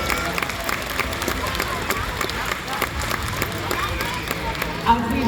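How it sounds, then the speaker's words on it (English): A large stadium crowd at the Orca Encounter killer whale show at SeaWorld San Antonio claps and murmurs in a dense, continuous wash of applause, steady and moderately loud in open-air surroundings. "let's give a round of applause for the whales and for all of you"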